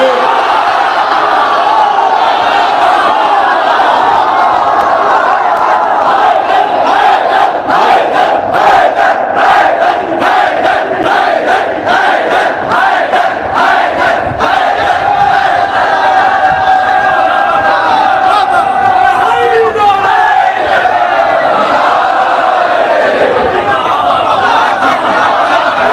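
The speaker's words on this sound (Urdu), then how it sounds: "اب مجمع میں نعرے لگائے حیدر حیدر حیدر، یا حیدر حیدر کے نعرے" A large crowd at a religious majlis in an imambara chants slogans in unison. Loud voices rise and fall in a rhythmic call over a steady roar, and the chant slows into a drawn-out cry near the end.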